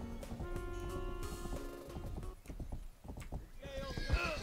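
Hooves clip-clop in a steady rhythm and a horse whinnies in the Wild West video game Rustler, with game music and voices playing alongside.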